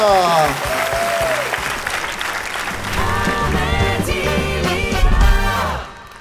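A comedy-show audience breaks into loud, sustained applause mixed with cheering and whoops, with a voice calling out over it, before the clapping fades away at the end.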